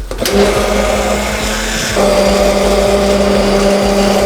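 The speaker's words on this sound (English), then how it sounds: "And get my immersion blender" An immersion blender whirs loudly and continuously, with a steady motor hum that shifts pitch slightly partway through.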